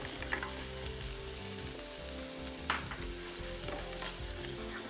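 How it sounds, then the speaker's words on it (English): Onions and spinach frying in olive oil in a skillet, a continuous close sizzle broken by a few sharp stirring scrapes and spatters, with no voices. "I'm going to saute my onions and spinach for this"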